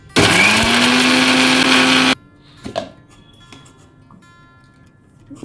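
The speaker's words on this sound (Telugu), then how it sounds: "ఫస్ట్ మనము తీసుకున్న 3 చిన్న టమాటాలని చిన్న చిన్న ముక్కలు కట్ చేసుకొని మిక్సీ పట్టుకోవాలి" A mixie grinder blends three small chopped tomatoes into paste for egg and onion pulusu: a loud, steady, close whirring roar for about two seconds that cuts off abruptly, followed by faint clatter and handling sounds.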